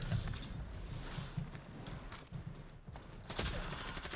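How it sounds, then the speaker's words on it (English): Gunfire from a firefight off to one side crackles in the shooter game Stalker 2, heard as scattered distant shots over a steady background rumble. "I think there's a big firefight happening to the right of me"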